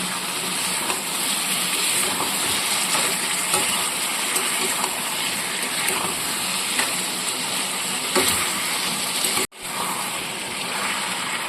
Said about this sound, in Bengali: আখের গুড়টা দিয়ে আবার ভালোভাবে কষিয়ে নিচ্ছি